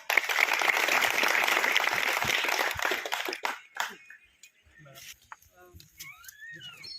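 A crowd at a village gathering breaks into loud, dense clapping that lasts about three and a half seconds and then dies away, leaving quiet background voices and faint animal-like sounds.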